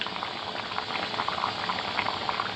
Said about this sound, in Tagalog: Medyo kumukulo-kulo na siya.